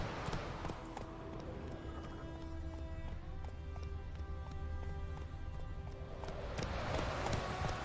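Roach, the horse in The Witcher 3, gallops with a steady, rapid run of hoofbeats over continuous game ambience and soft musical tones.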